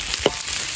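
Meat stir-fried in a wok with ginger, garlic and dried chilies gives a brief, close sizzle, with one quick stirring scrape in the middle.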